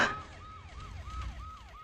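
An emergency siren wails in a repeating rising-and-falling sweep, about five cycles, moderately loud and near, with no talk over it.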